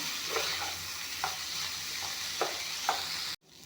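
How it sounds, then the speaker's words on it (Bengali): Moong dal frying in a pan, a steady close sizzle with a few soft stirring scrapes, ending abruptly. "এইখিনি অলপমান ভাজি ল'ম"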